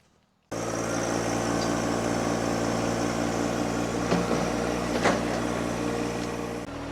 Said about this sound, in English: So let's get the tractor out and have at it.